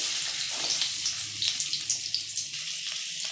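Onions frying in hot oil in a pan give a steady sizzle with a few small stirring clicks, close and fairly loud, with no talking.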